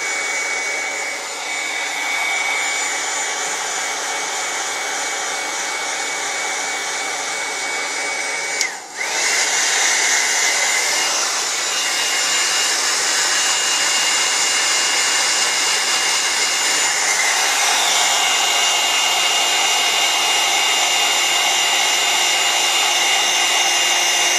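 A hot air rework blower heats solder to lift a micro stepper driver IC off a circuit board, giving a steady, loud, close airy roar for the whole stretch with one brief bump partway through.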